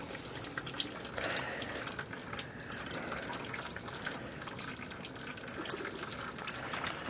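Engine oil trickles and gurgles steadily from the opened oil filter mount of a first-generation Infiniti G35 during an oil change, a faint continuous liquid pour with no talking.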